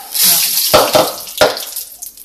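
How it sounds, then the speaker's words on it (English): Hot cooking oil spits and sizzles as water meets it while a clover soup with dandelion fry is made; loud crackling bursts over a running-water hiss, with sharp spatters near the start and again a moment later. "that's what happens when you put hot oil into water, or the other way around, water into oil"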